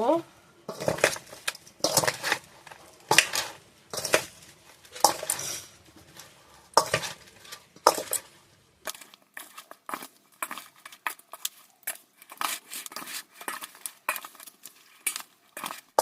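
Raw mango pickle is mixed by hand with spices and whole chillies in a bowl, giving rhythmic clattering and scraping strokes close by, while someone talks over parts of the mixing.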